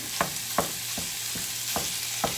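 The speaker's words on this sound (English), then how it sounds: "I'm gonna go ahead and throw in the ground beef." 80-20 ground beef fries in a pan with a soft steady sizzle, broken by about six sharp scraping stirs at a quick uneven rhythm, close and fairly quiet with no voices.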